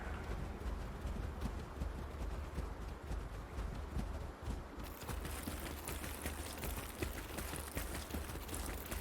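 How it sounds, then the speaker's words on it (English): Heavy dinosaur footsteps in the game Path of Titans: a steady run of thudding, clopping steps, fairly close and continuous over a low ambient rumble, with no talk. "Kind of heavy footsteps."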